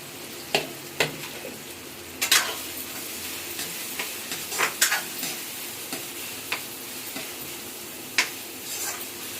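Onions and green chillies fry in a pan for a chicken curry, a steady close sizzle punctuated by several sharp scrapes and clinks of a spoon stirring against the pan.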